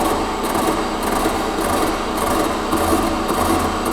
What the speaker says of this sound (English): So we're gonna put the stones together and run them at half speed. So they're just touching and skimming.